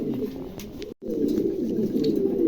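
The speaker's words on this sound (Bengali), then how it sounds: "খুবই চমৎকার একজোড়া কবুতর" Close, continuous pigeon cooing in a low throaty murmur, cut off briefly by a short silence before resuming steadily.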